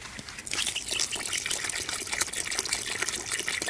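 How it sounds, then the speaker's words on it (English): Water is poured steadily for mixing Portland cement to make draped cloth flower pots, a loud continuous gushing and splashing that runs throughout with no pauses. "I'm going to pour in my water."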